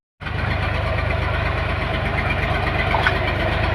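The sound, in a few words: tractor engine running while hauling soil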